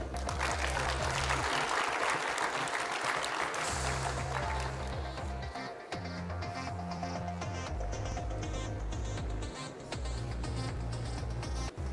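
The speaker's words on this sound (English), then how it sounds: "So kindly clap to all the winners" Sustained applause from an audience at the Safaricom Engineering Summit honouring winners, a dense steady clatter of clapping that runs the whole stretch over a low music bed.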